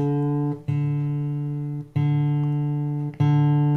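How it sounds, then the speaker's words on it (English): A guitar string is plucked and rings repeatedly as it is tuned, three loud attacks each decaying, with the pitch shifting slightly between plucks. "So we're raising it, you can hear it go up,"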